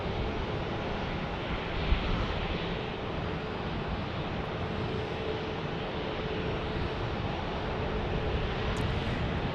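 A jet taxis at Phoenix Sky Harbor airport, a broad, steady rumbling engine roar heard from a distance, mixed with wind noise and no talking.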